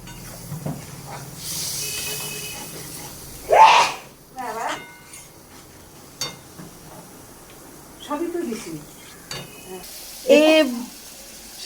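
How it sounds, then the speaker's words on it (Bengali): Curry masala sautéed with a little water in a pan for a potato, pointed gourd and pumpkin curry, giving a soft, intermittent sizzle and hiss beneath a person talking. "এবার আমরা অল্প জল দিয়ে এটাকে আস্তে আস্তে করে কষিয়ে নেব।"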